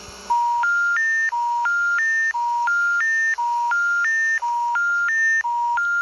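Loud, synthetic telephone dialing tones in the video game Hello Neighbor, in a repeating three-note stepped pattern, each cycle rising in pitch, steady and continuous with no talking.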